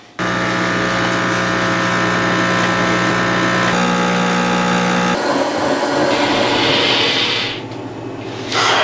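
A blender whirs steadily while blending a coffee drink, a loud, constant motor hum that shifts pitch partway through as the mix thickens, then stops near the end.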